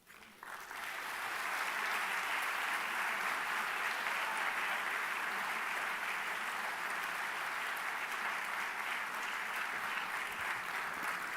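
Audience applause at a commemoration ceremony for the AMIA bombing, sustained clapping from a large crowd that builds within a second and continues evenly for over ten seconds.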